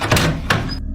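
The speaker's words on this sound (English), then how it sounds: "The moment he mentions the knocking, a loud, sharp knock" Two loud, sharp knocks on a closet door, close and hard, spaced about a third of a second apart, followed by a quick cutoff to silence.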